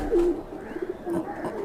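Madrasi pigeons coo twice, short and close, with a soft murmuring background between the calls and no speech.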